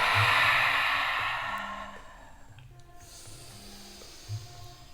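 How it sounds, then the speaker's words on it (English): A slow, deep breath drawn in and let out during a guided yoga breathing exercise, a soft airy rush that fades into near silence, with a faint low hum beneath and no voice. "So take a rich inhale, blessing every single atom in your body."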